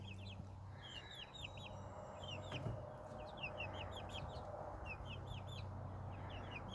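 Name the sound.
hens clucking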